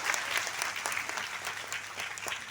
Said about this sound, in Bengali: হাততালি দেওয়া যাবে স্যারের জন্য